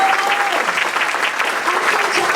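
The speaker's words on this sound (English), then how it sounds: "Let's hear another round of applause for those guys." Audience applause for eighth grade singers at a school spring concert, steady, even clapping from a crowd, fairly loud and continuous, with a faint voice at the start.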